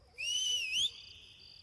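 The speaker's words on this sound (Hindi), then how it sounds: "अरे कौन सीटी बजा रहा है ये?" A person in a dubbed action-romance film scene gives a single, clear, high whistle that holds a steady pitch for about half a second, then slides upward before stopping abruptly.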